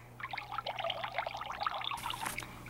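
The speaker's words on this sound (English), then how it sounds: "you pour it in a jar like this." Whipping cream trickles and glugs quietly into a jar, a soft close pour of about two seconds against a low background hum.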